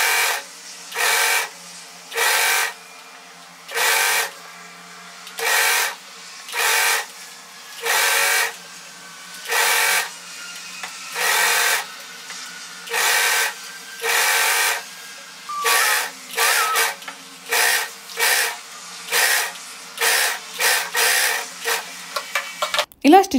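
A sewing machine stitching the lining of a frock in short repeated bursts of fast whirring, each lasting under a second, separated by brief pauses, loud and close.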